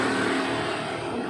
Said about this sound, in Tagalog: Medyo maingay kasi andito ako sa highway.